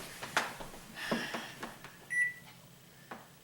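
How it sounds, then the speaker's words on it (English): A digital kitchen-style timer being set gives a few soft button presses and one short clear beep, quiet and close, amid light handling taps. "I also want to start the timer"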